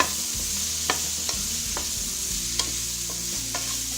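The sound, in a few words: mushrooms sautéing in pot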